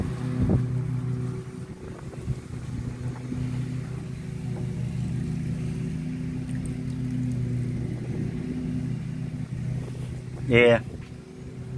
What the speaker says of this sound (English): It might need a set of rings, but it is running good.